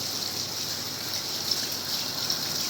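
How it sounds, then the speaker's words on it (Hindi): Heavy rain pours down in a dense, continuous hiss and wash, steady and loud with no break, a constant roar of falling water filling the space. "बड़ी तेज़ बारिश हो रही है।"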